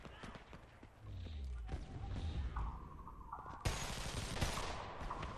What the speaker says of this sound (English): See me try to use the burst fire across the map on that guy.